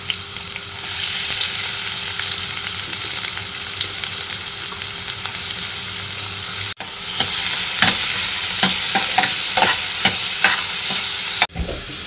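Onions frying in coconut oil give a steady, loud broadband sizzle throughout, with a brief break partway and scattered crackles and stirring scrapes layered on top; no one speaks.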